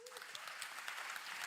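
Clapping from an audience at a Paris blockchain conference day, brief and fairly faint, a dense patter of hands with a short vocal sound at the start.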